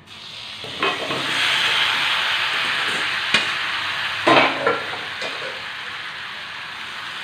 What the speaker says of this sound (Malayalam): ഇനി ഇതിലേക്ക് നമ്മളിവിടെ ഊറ്റി വെച്ചിരിക്കുന്ന കപ്പ കൂടി ചേർത്ത് കൊടുക്കാം.